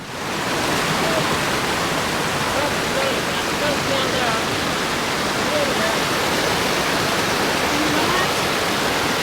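A flowing creek at a hiking stream crossing on a Pacific Northwest lake trail rushes steadily and loudly, a dense unbroken wash of water noise filling the whole stretch.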